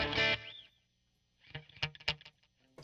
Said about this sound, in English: so that is delay